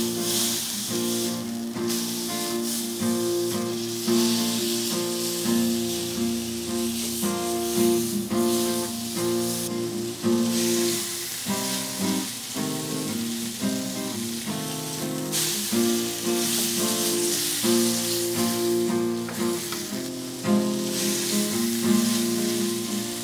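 A beef fillet for Beef Wellington sears in a hot pan with a constant, even sizzle that sits under loud background music throughout.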